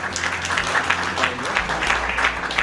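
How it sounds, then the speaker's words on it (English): An audience at the Fresh India Show 2022 awards ceremony applauds the winners with a steady, dense round of clapping, loud and sustained, with voices faintly mixed in. "let's give all the winners a big round of applause"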